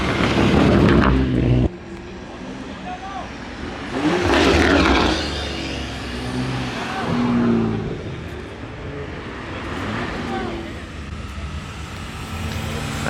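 A turbocharged car with a built Nissan VQ engine revs and spools outdoors, loud surging engine swells rising and falling several times, with some voices in the background.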